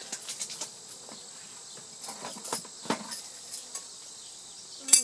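Honey bees buzz at the front of a hive, faint scattered buzzes and short passes of individual bees over a quiet outdoor background, with a louder close buzz at the end.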